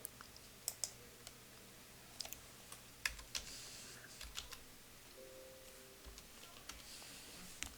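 Typing on a computer keyboard at a desk, entering a date into a form: scattered crisp key clicks in short irregular bursts, close and fairly quiet over a faint steady hum, with no talking.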